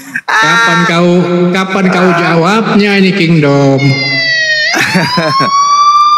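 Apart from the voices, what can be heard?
ambulance siren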